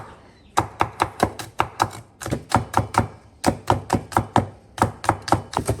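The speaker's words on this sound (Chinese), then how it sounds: "把它切细一点" Fresh green beans are chopped finely with a knife on a cutting board for dumpling filling: quick, even knife strikes in steady bursts of several cuts with short pauses, close and clear, with no talking.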